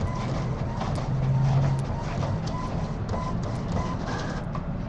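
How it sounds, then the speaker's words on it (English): An inkjet-style home printer feeds and prints on a sheet of tissue paper, giving a steady mechanical whir with rhythmic clicks and rattling, close and moderately loud throughout. "it might sound a little scary when it's going through your printer, but that's just the noise that the tissue paper makes"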